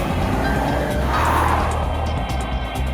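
Porsche Macan with a 2.0-litre petrol engine revs hard toward 6,500 rpm, a continuous loud engine drone with tyre and road noise, heard steadily from inside the car with no talking.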